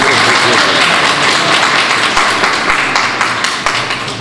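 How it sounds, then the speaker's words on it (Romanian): Loud applause fills a local council swearing-in ceremony, dense clapping from a close room that thins into scattered claps toward the end. "Avut emoții, ne-am aplaudat mai tare."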